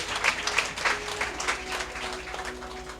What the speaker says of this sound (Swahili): Atigwo makofi.